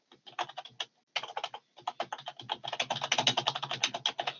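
Fast typing on a computer keyboard, close and clear, with dense clicking keystrokes in bursts, a short pause after the first second, then a steady rapid run to the end.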